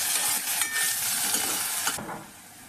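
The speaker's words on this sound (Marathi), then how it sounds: "कांदा घातला की त्याला छान असं परतून घ्यायचं." Chopped onion for pav bhaji is sautéed in a pan, giving a close, bright sizzle with stirring scrapes that stop abruptly near the end.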